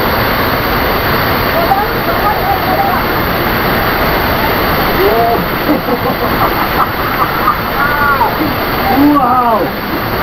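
Waterfall on a hike, a loud, constant broadband rush of falling water filling the scene, with a few faint chirps over it.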